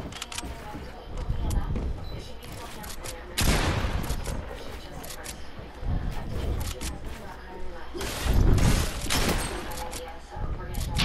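Rapid video-game gunfire bursts repeatedly over a constant game and voice backdrop, with louder volleys near the middle and end; someone talks throughout.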